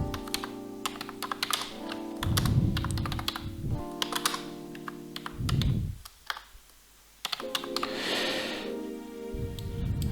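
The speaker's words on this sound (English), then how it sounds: "so let's type something" Keys clack on a computer keyboard in bursts of quick, close typing, with short pauses between runs of keystrokes and no talking.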